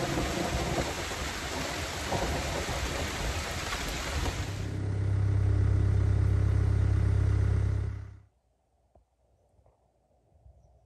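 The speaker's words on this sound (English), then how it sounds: "I think we're getting rained out." Heavy rain pours down at a pole barn construction site, a dense steady roar joined midway by a deep sustained rumble of thunder before the downpour cuts off abruptly into near silence.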